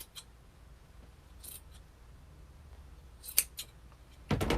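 Scissors snip through a craft piece in a few quiet, separate cuts spread across the stretch, ending in a louder burst of cutting and rustling near the close.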